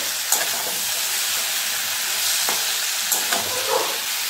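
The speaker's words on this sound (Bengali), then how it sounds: "এবার নাড়িয়ে চাড়িয়ে সবকটা সিমের গায়ে যেন ধনেপাতার বাটাটা লেগে যায়, এরকমভাবে আস্তে আস্তে নাড়িয়ে চাড়িয়ে দেবো" Flat beans coated in coriander leaf paste are stirred slowly in a hot pan: a loud, continuous hiss with a few scraping strokes of the spoon.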